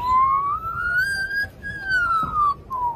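An Australian magpie mimics human sounds with a clear, loud whistling call that swoops up and down in pitch, like a siren or a tune being whistled, heard close and alone.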